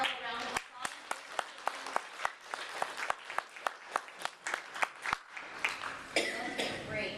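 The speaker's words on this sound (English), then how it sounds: "Let's give our panel a round of applause" A panel at a job-search recruiting event gets applause that starts as a few sharp, separated claps in a loose rhythm, then thickens toward the end, with a person talking over it.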